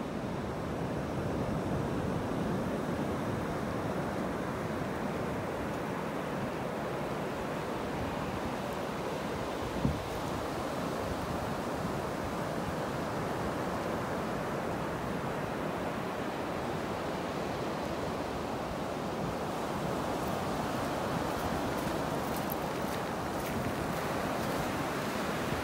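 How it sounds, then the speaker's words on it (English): Ocean surf rolls steadily onto a beach in North Naples, Florida, a continuous broadband wash of breaking waves with some wind on the microphone and no talking. "Love listening to those waves."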